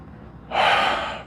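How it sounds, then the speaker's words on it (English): One sharp, deep inhalation of a breathing exercise begins halfway through after a quiet moment, an airy rush that swells and then slowly fades, close and alone with no talk. "You fully breathe in, and then breathe out."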